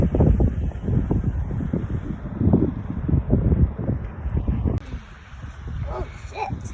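Wind gusts roar and buffet the microphone on a lake beside a house during a fishing outing, a heavy low rumble throughout that eases partway through, with people talking over it.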